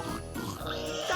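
Grunting, oinking pigs in a video game, loose from a farm, a short close burst of snorts over a busy game backdrop.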